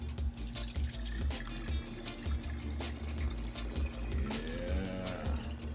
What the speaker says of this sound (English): So wash your food properly.